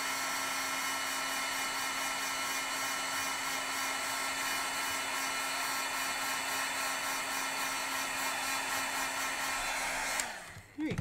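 A hair dryer blows steadily on a handmade pop-up card, a constant close whirring hum with a high whine, then it clicks off near the end.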